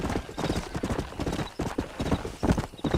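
Horse hooves clip-clop steadily and close in a Western cowboy video game as horses are herded toward a canyon, a dense run of quick hoof strikes with occasional stronger thumps.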